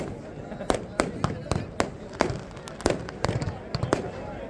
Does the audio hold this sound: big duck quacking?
no